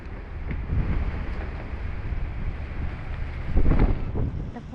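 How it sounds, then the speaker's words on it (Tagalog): Strong wind blows across a garden plot, a steady broadband rush with louder gusts around the one-second mark and near the end, heard alone without talk. "ang lakas ng hangin"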